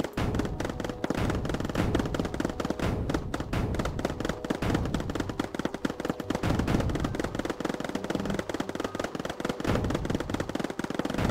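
Units in the strategy game Mindustry fire relentlessly on an enemy base, a dense, loud, continuous barrage of rapid shots and impacts that never lets up, with no talk.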